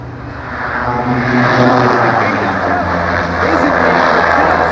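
A propeller airplane on a slow landing approach at Livermore airport drones loudly and steadily overhead, its engine rumble filling the air, with voices faintly mixed in.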